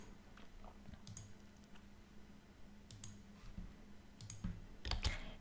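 Faint clicking of keys on a computer keyboard, a few short bursts of tapping, the keystrokes sparse and quiet, growing a little louder toward the end.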